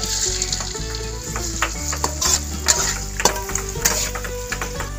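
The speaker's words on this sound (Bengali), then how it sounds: "প্রথমে আমরা সাদা তেল দিয়ে দিয়েছি, তারপর দিচ্ছি পেঁয়াজ কুচি" Chopped onions sizzle and fry in white oil in a pan for a Sundarban king crab dish, a steady close hiss with frequent stirring and light utensil scrapes throughout, no voices.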